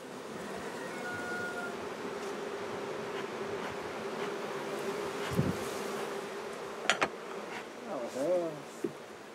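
Honey bees hum steadily around a beehive on an organic farm in Cuba, a continuous near buzz that runs throughout while individual insects zip past the microphone in brief louder swells.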